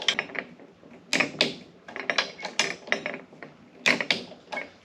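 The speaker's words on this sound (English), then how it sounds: "I'm just going to go ahead and tighten these up here." Bolts are tightened one by one on an Alaskan chainsaw mill, heard as a close, steady series of ratcheting clicks and metallic turns in short repeated bursts.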